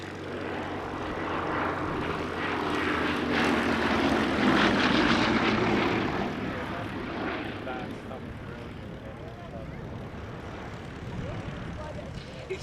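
Bristol Blenheim twin piston engines drone overhead at an airshow, a broad propeller roar swelling toward the middle and then slowly fading, with a voice talking over it.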